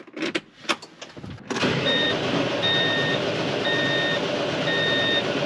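A Ford 830 tractor engine, just primed after a fuel filter change, cranks in a few uneven bursts and then catches, settling into a loud, steady running drone with faint intermittent beeps.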